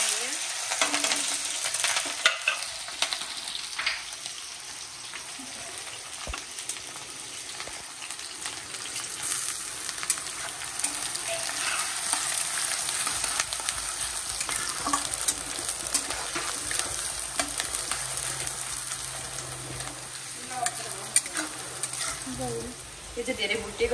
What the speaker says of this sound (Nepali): यो चाहिँ धेरै भुटेको छैन, तर यो मासु सँगसँगै भुटिन्छ भनेर हामीले हाल्यौँ मासु।